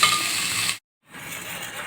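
Moth beans (matki) roasting in a spoonful of oil in a pot give a steady close sizzle with light stirring, which cuts out briefly and then resumes.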